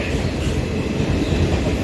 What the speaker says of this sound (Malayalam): ട്രെയിൻ ഇതാ പോകുന്നു, പോയി കഴിഞ്ഞു